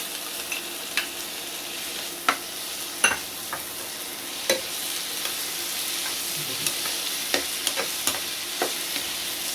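Chopped capsicum and tomato fry in a pan for chicken shawarma, giving a soft, even sizzle punctuated by scattered spoon clicks and taps as they are stirred.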